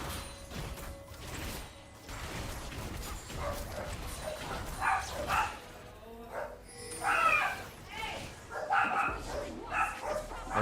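Several dogs at a house bark and yip in irregular bursts, moderately close and fairly quiet, with a few whimpers and some faint talk and background noise mixed in.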